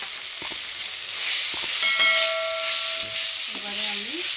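Ground cumin and coriander sautéing in oil in a pan for a taro leaf curry with coconut: a steady close sizzle and hiss, with faint stirring scrapes and a brief whistling tone near the end.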